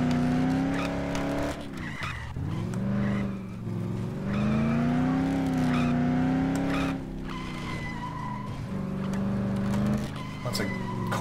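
A heavy truck engine in the video game Dead Island growls and revs, its pitch rising and falling, with tires squealing at moments; loud and continuous.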